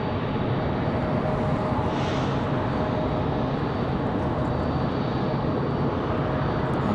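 A United Airbus A319 airliner landing on a windy day at Raleigh-Durham International, heard as a steady, broadband engine roar and rush with a faint whine, loud and continuous throughout with no other voices.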